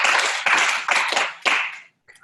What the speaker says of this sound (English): if everybody would like to applause